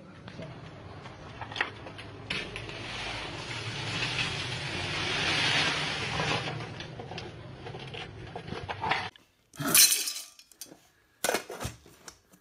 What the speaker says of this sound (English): a small but powerful mill that can grind even such hard objects as glass balls